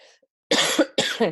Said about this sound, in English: I am dealing with a bug myself, so forgive me if I'm coughing